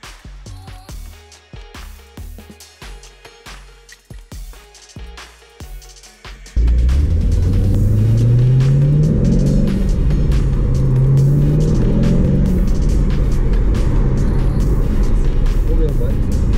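Chevrolet Corvette fitted with a Hurst shortshifter on a test drive: a loud, steady engine and road drone fills most of the stretch, with rising pitch sweeps as it accelerates through gears, after an opening of chopped, quieter sounds and some talk.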